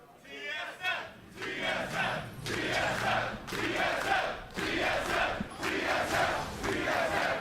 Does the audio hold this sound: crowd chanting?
yes